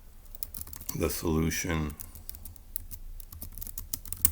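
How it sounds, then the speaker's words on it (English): A computer keyboard is typed on during a Turing Machine deduction puzzle game: a brief spoken phrase comes first, then a run of light, irregular key clicks close by. "I'm just going to type in"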